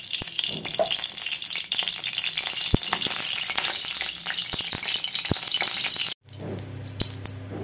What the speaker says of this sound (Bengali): শুকনো লঙ্কা ফোড়ন দিয়ে দিলাম, তেজপাতা, সাদা জিরে